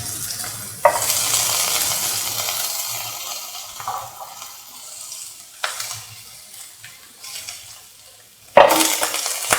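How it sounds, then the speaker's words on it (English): Ginger frying in a pan of oil while cooking tomato and cottage cheese rice, a steady broadband sizzle with stirring and utensil clinks, and sharper bursts as ingredients hit the hot pan. "Put in the ginger."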